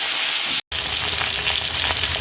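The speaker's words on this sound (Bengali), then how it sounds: "এবার এর মধ্যে আমি আলুগুলো দিয়ে ভালো করে মাছটাকে ভেজে নেব" Fish pieces and potatoes frying in a pan of hot oil with spices and green chili. The sizzle stays loud and dense, with light stirring scrapes, and breaks for a brief moment of silence near the start.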